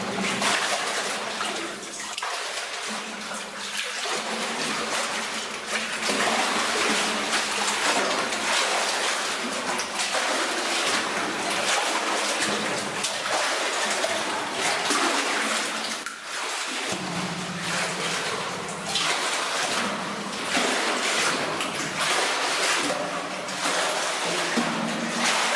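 A person in a life jacket swimming through deep, freezing cold water, steady sloshing and splashing close by, continuous and fairly loud throughout with brief lulls, no talk.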